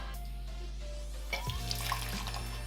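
Hot water poured off from a titanium pour-over coffee cup, a steady close splashing trickle over a constant low hum, starting about halfway through.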